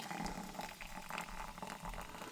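Sprite mixed with tea pours into a glass with a soft, steady liquid splash and fizz, faint and close, with no talking.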